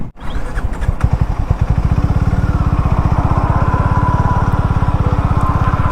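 A Harley-Davidson X440T motorcycle, nearly out of petrol, fires up and settles into a steady, rapid, loud idle with even thumping pulses, heard close up.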